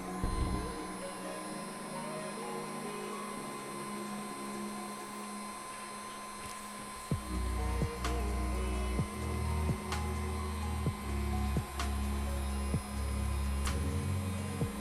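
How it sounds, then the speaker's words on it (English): A heat gun blows a steady stream of hot air while softening ORACAL 970RA vinyl wrap on interior trim pieces, a continuous whooshing hum with soft periodic taps in the second half. "This is about like a blow dryer right now."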